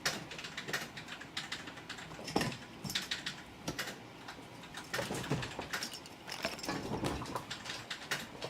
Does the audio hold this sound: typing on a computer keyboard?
yes